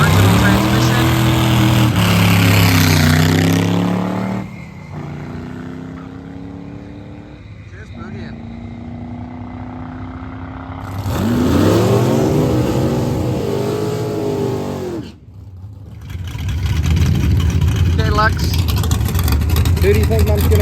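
Loud drag race cars at a drag show, engines revving hard and roaring as they accelerate, with rising and falling engine pitch, heard up close alongside commentary and crowd noise.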